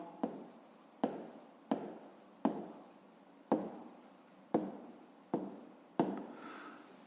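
Pen strokes from numbers being written by hand during a fifth-grade math exercise: eight crisp taps and short scratches at irregular intervals, close and quiet, with no talking.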